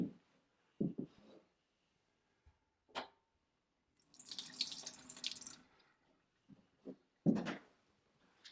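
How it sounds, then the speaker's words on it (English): A kitchen sink tap fed from a water carrier in an off-grid log cabin runs in a hissing gush for about a second and a half, set among a few soft knocks and clunks before and after. "This is the kitchen sink with a tap fed from the water carrier up on the shelf."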